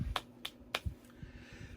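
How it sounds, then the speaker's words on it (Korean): A few scattered, faint hand claps ring out in a small room at the close of a middle-school church worship service, sparse and separate rather than a full ovation. "영광과 감사의 박수를 올려드리도록"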